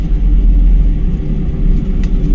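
Heavy trucks passing on a national highway near Pingdingshan in hilly mining country, a loud, continuous low rumble of engines and tyres heard from close by with no talk.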